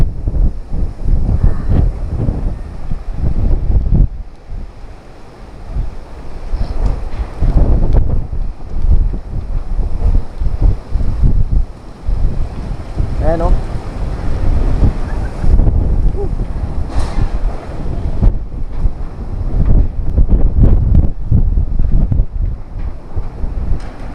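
Strong, gusting typhoon wind roars continuously and loudly, buffeting the microphone with heavy rumbling noise throughout.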